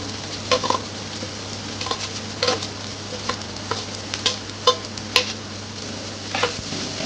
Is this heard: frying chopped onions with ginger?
yes